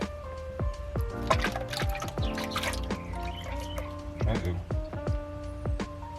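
Transmission fluid being poured into a Ford Mustang TR-3650 gearbox, with irregular gurgling drips and trickles up close, while ringing tones and bursts of sound run alongside.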